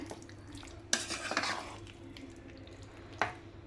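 Cooked mutton for a gravy stirred and fried in a pan: a low sizzle under two or three sharp utensil knocks and scrapes against the metal, close up, with no voices.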